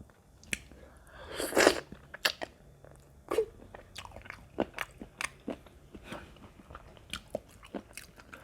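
Close, crunchy chewing and biting of a freshwater snail eaten with som tam papaya salad, with a loud crunch early on followed by steady, repeated wet chews and smacks, and no talking.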